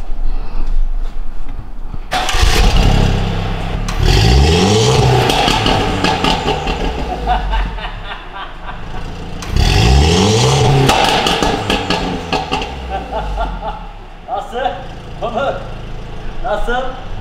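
A Mercedes W205 C300 converted with a C63 AMG engine starts with a loud burst, then revs hard in two big rising sweeps, with crackling pops between and people talking over it.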